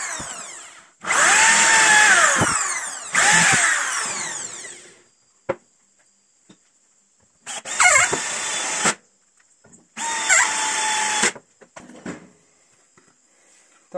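A power drill drives a screw into a wooden hinge-setting jig in several loud close bursts, the motor whining up and pausing between runs, with quiet gaps and small handling knocks.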